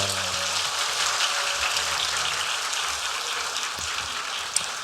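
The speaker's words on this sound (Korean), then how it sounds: "우리 박수로 초청하겠습니다." Korean church congregation applauding to welcome a speaker at an early morning service, a steady even wash of many hands clapping at a distance, continuous and uniform like rain, with faint low tones underneath.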